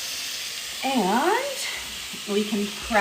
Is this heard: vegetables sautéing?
yes